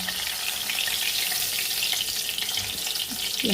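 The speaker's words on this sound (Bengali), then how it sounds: "কত সুন্দর লাল করে ভেজে নিয়েছি মাছগুলোকে" Pabda fish frying red in oil, heard as a continuous bright crackling sizzle at an even, moderate level from close by, with a couple of faint clinks near the end.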